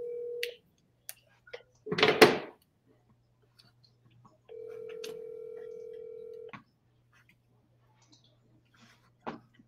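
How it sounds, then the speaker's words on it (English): A steady ringback tone on an outgoing telephone call: one short burst at the start, then a single two-second ring partway through, with a brief loud thump between them and faint clicks. No voices. "So no answer, we're gonna ring again."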